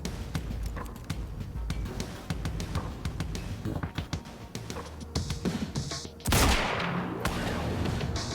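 Sniper gunfire in the video game Quantum Break, a scatter of sharp cracks and shots through busy game noise, with one loud burst near the end followed by sustained din.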